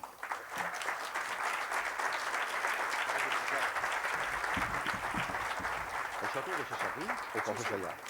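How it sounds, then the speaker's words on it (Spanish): Sustained applause from a congress audience fills the whole stretch, steady and dense, with a few voices briefly audible near the end. "Con ustedes les pido un aplauso para Sebastià Darboux."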